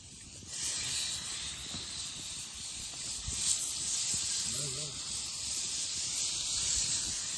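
Butter sizzling in a hot pan while kaul chicken cooks on a cold night, a steady broad hiss holding throughout, with brief murmured voices underneath.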